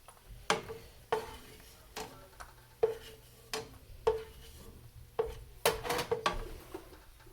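Fried cashews scooped out of hot ghee in a pan, a series of sharp metal spoon clinks and scrapes against the pan at a steady pace over a faint sizzle, close and fairly quiet with no talk.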